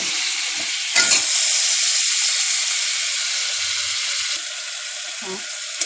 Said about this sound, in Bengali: তেল দিয়ে কাঁংড়াগুলোকে আগে ভালো করে ভেজে নিচ্ছি